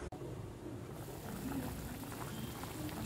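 Soft, continuous bubbling of chicken soup simmering in a covered pot over high flame, quiet and steady with no voices.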